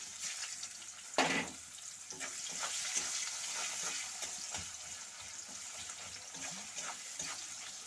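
Quiet sizzling of sliced onions dropped into hot oil with whole garam masala for an aloo magur fish curry, a soft crackle with faint stirring and clinks throughout.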